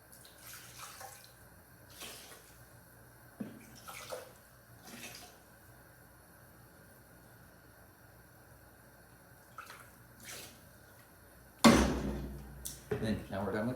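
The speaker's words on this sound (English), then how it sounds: "just take some water and rinse it out." Water splashing while a can is rinsed out in a kitchen during spaghetti cooking, a few short bursts of running water and clinks spread out, ending in a louder gush near the end, fairly quiet overall.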